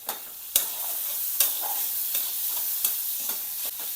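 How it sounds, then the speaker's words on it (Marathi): Turmeric, salt, and ginger and garlic paste are sautéed in hot mutton fat with a steady close sizzle, punctuated by spatula scrapes and taps roughly once a second. "थोडी हळद, थोडं मीठ, अद्रकची पेस्ट, लसणाची पेस्ट परतून घ्यायचं"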